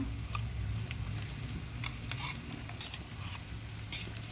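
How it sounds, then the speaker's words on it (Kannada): A ground paste of garlic, ginger, curry leaves and cumin fries and is stirred in a pan, giving a low, continuous sizzle with light scraping strokes and occasional clicks close by. "ಈಗ ರುಬ್ಬಿರೋ ಪೇಸ್ಟ್ ಹಾಕ್ತಾಯಿದ್ದೀನಿ"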